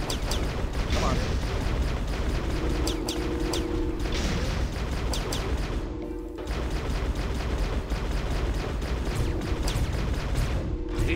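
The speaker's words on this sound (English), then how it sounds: "He's shooting." Enemy gunfire in a video game: repeated sharp shots and mechanical clatter over a steady loud background rumble, with a short lull around the middle before the shooting resumes.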